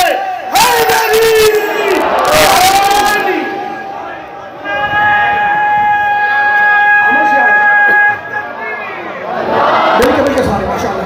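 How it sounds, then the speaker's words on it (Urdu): A large crowd at a Muharram majlis in Karachi shouts the Nara-e-Haidari slogan in unison, loud and reverberant, with one long sustained tonal cry in the middle before the massed voices surge again. "سوا لکھ نعرے حیدری"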